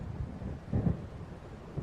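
Thunder from an approaching storm in Alan Wake, a low rumble that swells briefly in the middle over a soft, steady bed of wind and rain.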